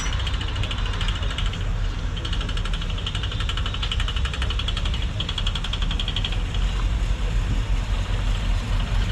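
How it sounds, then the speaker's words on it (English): A 1955 Cadillac engine runs steadily at a car show, a constant close rumble with a faint rapid rattle ticking through it and no clear talk. "It's got a little rattle to it."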